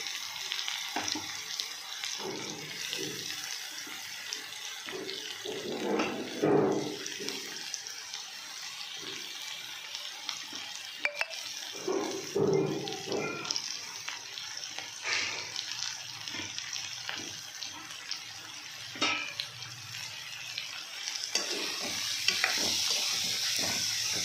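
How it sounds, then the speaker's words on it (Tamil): Onion and grated carrot sautéing in a pan, a steady close sizzle and hiss with occasional scraping stirs of a spatula running through it, no talking. "இப்போ நல்லா வதக்கி விட்டுக்கலாம்."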